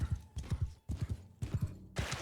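Cavalry horse hooves clip-clopping in the samurai strategy game Shokuho, quick paired thuds in repeating bursts, fairly faint with a brief noisy swell at the end.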